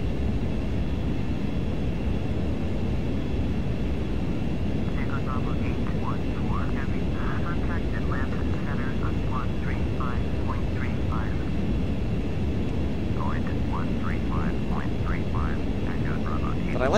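Steady jet engine drone of a Lockheed L-1011 airliner in Flight Simulator X, vintage airways flight from KIAD to KATL, constant and loud throughout, with someone talking over it.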